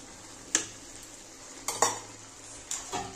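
Fried potatoes tipped into Bengali-style mutton kosha in a pan, heard as three or four soft clinks and scrapes of a spoon against the pan over a quiet background sizzle.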